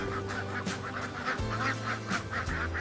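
Egg-laying ducks in a flock quack repeatedly in short, rhythmic bursts at moderate distance, several calls overlapping against a low background.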